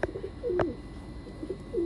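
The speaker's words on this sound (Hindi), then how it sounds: "ये सब उड़ाए हुए कबूतर है दोस्तों" Soft low coos from a breeding pair of pigeons repeat a few times in short phrases over a quiet background, with a brief sharper click in the middle.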